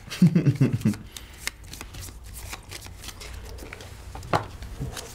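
Pandemic Legacy board game cards being shuffled into piles, a brief burst of riffling and card slaps up close at the start, followed by quieter rustling and handling with faint background sounds.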